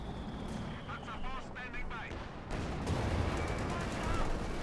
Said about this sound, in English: Mortar firing down here around the center.